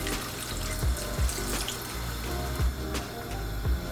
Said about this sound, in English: And we add a small amount of water.